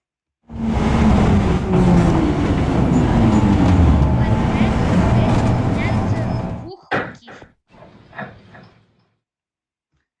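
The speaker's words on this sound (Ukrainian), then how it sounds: "потяг їде." A train in an MTR video game mod runs with a loud, steady rolling rumble and a descending whine for about six seconds, then stops abruptly, leaving a few short clunks and knocks.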